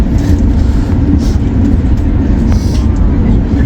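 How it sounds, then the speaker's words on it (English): A steady, loud rumble of a train rolling past nearby in Otaru, Japan, during a blizzard, continuous and droning with no pauses. "the train blocks your view"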